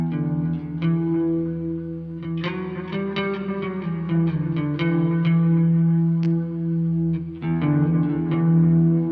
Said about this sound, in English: So we'll start off with a little bit of reverb and delay.